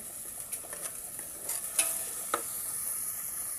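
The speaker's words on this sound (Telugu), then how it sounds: "ఇది అలా మగ్గనిద్దాం" Chicken feet curry stirred in a pan as it simmers, with a soft, steady sizzle and a few faint scraping strokes of the spoon, quiet and with no voices.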